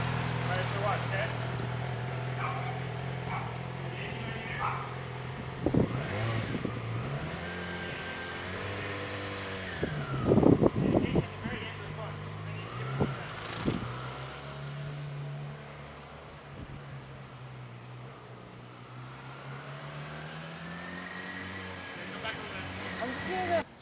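A 2007 Yamaha R6 600cc motorcycle with stock exhaust idles and is given gas in a few short rev bursts, the engine note rising and falling; people talk over it intermittently.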